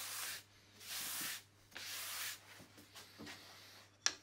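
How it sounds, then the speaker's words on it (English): Wooden lantern frames are sanded by hand in bursts of rough, hissing strokes, each about half a second to a second long with short pauses between, close by, followed by a sharp little knock near the end. "So I'll keep sanding, we'll get you back in a second for the gluing up."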